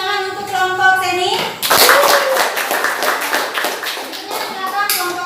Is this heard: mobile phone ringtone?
no